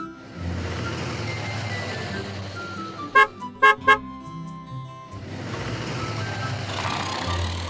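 A cartoon truck hauling a load drives away with engine rumble, broken by a few sharp electronic beeps in the middle, then the rolling engine noise returns, steady and fairly close.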